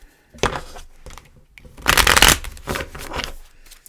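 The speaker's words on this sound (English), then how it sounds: "Deck is really loud when I shuffle it." Loud riffle-shuffling of a card deck, several bursts of crisp flapping and snapping, close up, with no voices.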